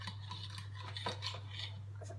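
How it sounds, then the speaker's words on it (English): Eggs whisked with a fork in a bowl, a quick run of light metallic clicks and taps under a steady low hum, close and fairly quiet, made while baking a chocolate roulade. "Because you need to whisk them with a fork."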